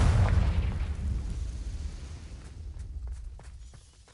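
Confringo fire spell blast in Hogwarts Legacy: a loud, close explosive boom at the start with a rumbling tail that slowly fades over several seconds, a few faint crackles trailing near the end.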